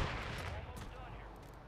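Burst of gunfire in a Call of Duty match, a dense crack and rumble of shots up front that trails off into reverberating echo over a couple of seconds.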